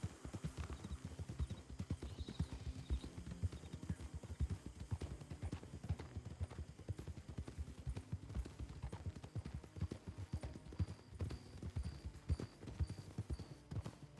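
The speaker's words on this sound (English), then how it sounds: "I love the sound of hooves." Hooves of several horses clip-clopping in a steady, continuous rhythm, moderately close, with an occasional faint whinny and light background rustle.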